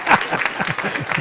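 Light clapping from a small group mixed with a few voices talking underneath, uneven and close by.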